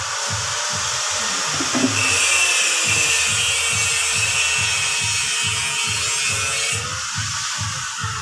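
A power drill runs steadily and loudly throughout, its motor whine broken by a rapid, regular pulsing rumble, with no talking.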